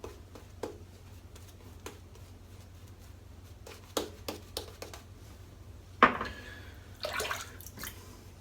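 A little water is splashed into shaving lather during a head shave: soft, sparse drips and taps, then a couple of brief wet swishes close by near the end. Quiet overall, with no talking.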